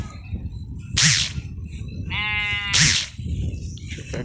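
Sheep bleat loudly nearby on a farm, two strong wavering calls about two seconds apart, with a shorter buzzing bleat between them and another starting at the end, over a low outdoor rumble.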